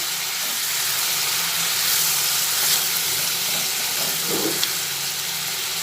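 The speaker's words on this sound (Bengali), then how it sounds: "মশলাটা ভালোভাবে কষিয়ে নিতে নিতেই বাদ বাকি জল আবার দিয়ে দিচ্ছি" A spice paste for an Afghani egg curry fries in a pan after water is added, giving a steady, loud sizzle and hiss with faint stirring scrapes and no talk.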